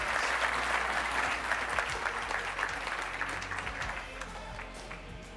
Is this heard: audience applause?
yes